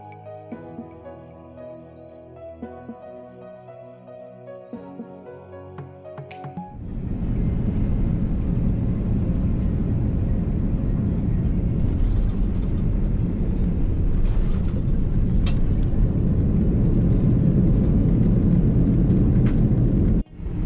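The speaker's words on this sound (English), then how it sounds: "We lined up and descended through the clouds to land on runway 32 right." Iberia Airbus A340 descending through clouds and touching down on a runway in Madrid: a quieter cabin with a musical chime gives way after about seven seconds to a loud, steady broadband roar of engines and rolling that holds to the end.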